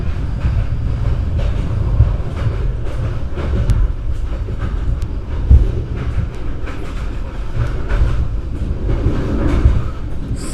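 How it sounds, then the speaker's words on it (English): A night train from Da Nang to Hue, Vietnam, rolls steadily along the tracks with a continuous low rumble and faint rhythmic clacks, heard from inside a sleeper cabin, no voices. "I would take a night train over a sleeper bus."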